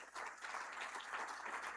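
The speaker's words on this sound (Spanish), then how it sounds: "Yo le daría un fuerte aplauso al Señor Jesús." A church congregation applauds during a Spanish-language sermon, a dense, sustained patter of many hands clapping at moderate volume throughout, with no speech over it.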